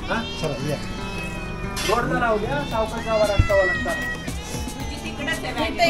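A cat meows repeatedly in short, rising and falling cries, close by at a farmhouse in the monsoon, while people talk over and between the calls.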